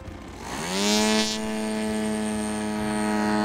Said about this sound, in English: The students worked in teams to flight test a large remote-controlled model airplane.